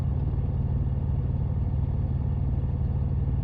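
A car engine runs steadily while the car drives at night, a continuous, even low rumble with a faint rhythmic throb and no voices.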